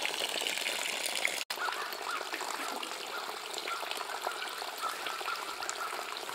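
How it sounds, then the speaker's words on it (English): Water drains steadily from a spigot into a maple sap collection bucket, a continuous close gush and trickle with one brief break early on. "let it drain out from the spigot."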